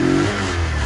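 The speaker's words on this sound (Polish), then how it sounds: "Przy zejściu z gazu on też może mieć takie zagrania jak teraz właśnie, że troszeczkę wachluje na obrotach" A tuned Junak moped engine with Euro 4 fuel injection, heard up close as it revs and its idle wavers after the throttle is released, a brief buzzing engine note that dips slightly in pitch.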